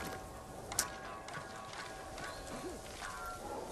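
A horse in the video game Ghost of Tsushima, with fairly faint clip-clopping hooves and a short whinny over quiet game ambience.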